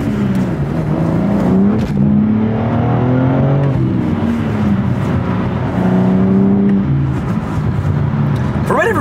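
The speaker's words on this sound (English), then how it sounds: "Do a little bit of a harder acceleration" A BMW fitted with an M Performance Exhaust accelerating hard, heard from inside the car, with the engine note climbing through the revs in repeated rising sweeps and voices talking over it.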